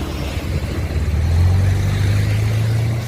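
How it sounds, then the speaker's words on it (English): A motorized sofa vehicle with four wheels drives along a city street, giving a steady low engine drone that rises slightly in pitch midway, loud and continuous over background street noise. "the speedy sofa was turned into a vehicle to drive around the city"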